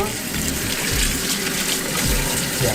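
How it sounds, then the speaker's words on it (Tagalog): Tap water runs in a steady, full gush while an Imarflex ICM-500A coffee maker is rinsed under it, the flow constant and close throughout. "running water will do"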